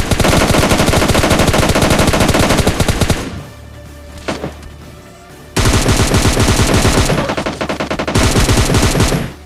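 Rapid automatic gunfire rattles out in PUBG Mobile Lite, loud and close, in two long bursts separated by a short lull with a few scattered shots.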